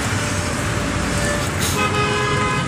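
Dense street traffic in Tacna, Peru, with continuous engine noise and several car horns sounding at once, some short toots and longer blasts, fairly close.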